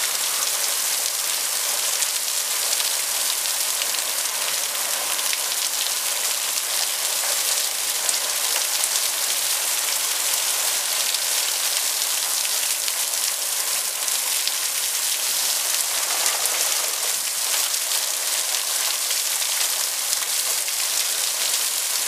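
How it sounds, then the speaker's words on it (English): Heavy rain from a prairie storm in Grande Prairie, Alberta, pours down in a dense, even hiss, close and unbroken throughout with no voices. "We're getting a prairie storm here."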